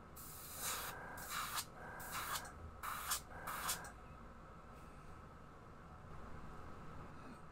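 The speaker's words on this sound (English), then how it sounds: "I gotta say, I really like spraying that color." An airbrush sprays Actress Gold paint onto a fishing lure in five short, close hissing bursts, each about half a second long. Quiet room tone follows.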